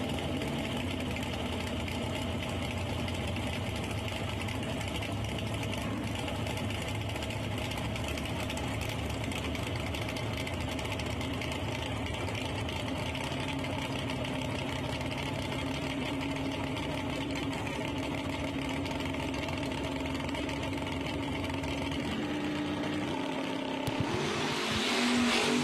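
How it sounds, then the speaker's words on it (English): Drag race cars at Shadyside Dragway roaring off the line side by side, a loud sustained engine drone that holds steady throughout and shifts near the end. "A good old-fashioned drag race."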